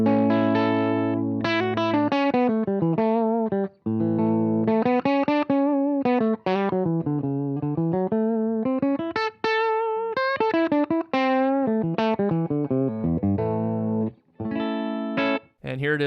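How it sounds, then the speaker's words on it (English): Electric guitar played with its volume knob turned down about halfway and the tone knob fully up, a steady sustained melodic line of chords and single notes with a slightly softened treble, alone throughout. "here's what it sounds like when I turn the volume knob down about halfway and leave the tone knob on 10."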